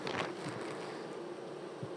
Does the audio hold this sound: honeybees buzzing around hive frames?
yes